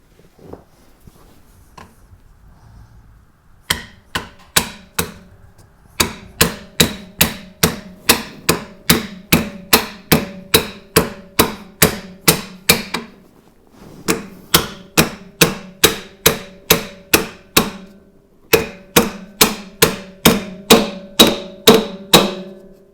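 A 2-inch PVC coupling is hammered against an axle seal to drive it onto a spindle. It makes rapid, sharp, ringing metallic blows in steady bursts of about a dozen strikes, with short pauses between the runs.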